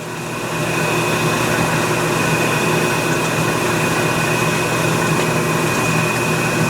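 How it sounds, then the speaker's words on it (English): A Royal Master centerless grinder with an automatic cycle option runs with its regulating wheel turning, giving a steady, loud, continuous mechanical hum and a thin tonal whine that holds unchanged throughout. "bring the camera in right to the regulating wheel right there, you can see we do have more speed"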